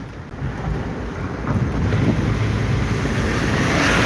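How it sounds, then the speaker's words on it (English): Water sprays steadily in a continuous broadband rush where ships pass by, heard close and loud with gusty wind buffeting the microphone and no voices. "See? Spraying water."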